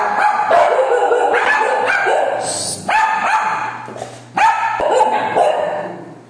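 A dog barks in three loud bursts of rapid, repeated barks, close by, with brief pauses between bursts.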